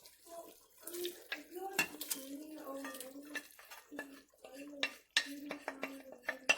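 Rice and pickle for an achari aloo pulao go into a pot of water, with clinking of a utensil against the pot, splashes and stirring, while someone talks throughout.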